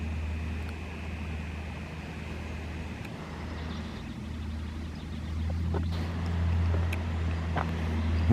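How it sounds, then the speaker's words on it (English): An old canal boat's engine drones low and steady, chugging along continuously, with faint splashes and wind noise over it, no voices. "the old boat is chugging along at a fair old rate of knots"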